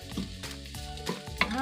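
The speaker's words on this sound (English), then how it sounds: "we will cook our garlic. Just simply stir it." Garlic fries in a pan while being stirred, giving a soft sizzle with light scraping strokes and a small clink near the end, close but fairly quiet and brief.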